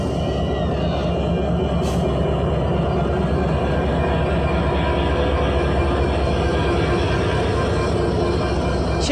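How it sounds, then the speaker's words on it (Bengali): The Sundarban Express pulls out of Bhanga railway station behind a diesel locomotive, a loud, continuous rumble of wheels and engine with a brief high squeal partway through. "725 আপ সুন্দরবন এক্সপ্রেস 9:27 ভাঙ্গা রেলওয়ে স্টেশন থেকে ডিপারচার নিয়ে নিচ্ছে"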